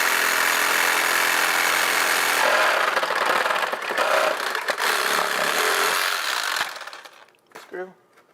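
A power driver runs continuously as it screws together parts of a foam taxidermy form, a loud whirring grind for several seconds that cuts off near the end, followed briefly by a voice.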